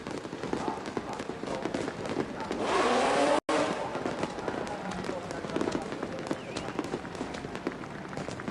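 Dense crackling and popping of fireworks at Suzuka circuit celebrating the 1996 Suzuka 1000km race win, over a constant roar of crowd and engine noise, with loud booms near the middle.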